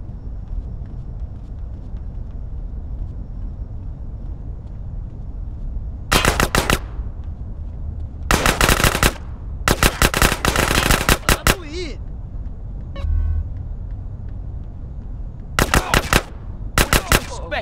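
Gunfire in GTA San Andreas: several loud bursts of rapid automatic shots in clusters, separated by gaps of low ambient rumble and faint background game sound.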